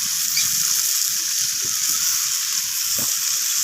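Ginger paste sizzles steadily in a hot pan, a continuous close frying hiss with a brief stir partway through, cooked for a Bengali village-style chorchori of bitter gourd and note greens.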